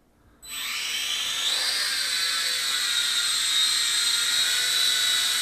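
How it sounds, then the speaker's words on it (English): A WLtoys V686G quadcopter drone starts its rotors and hovers indoors. The high, steady whine rises quickly to full speed and holds loud and close throughout, with no talk. "let's do a little quick indoor flight of the WLtoys V686G"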